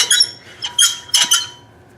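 A drill press table position attachment squeaks in several short, bright bursts, close and fairly loud, with quiet gaps between them and no talking.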